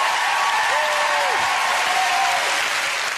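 A TV game show studio audience gives loud, sustained applause that fills the room evenly throughout. Voices call out briefly over the clapping.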